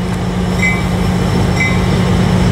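A freight train with auto rack cars rolls past close by, giving a steady, loud rumble with faint metallic squeals from the wheels throughout.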